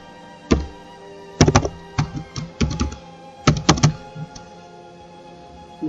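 Typing on a computer keyboard to enter a name into a database table, heard as irregular clusters of crisp, close keystrokes separated by short pauses, with no talking.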